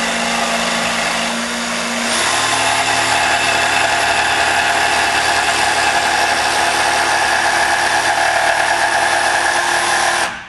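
Jigsaw cutting through a workpiece in one steady, loud continuous run, with a short lower-pitched start-up before the blade settles into full cutting, then stopping abruptly at the end; no talking.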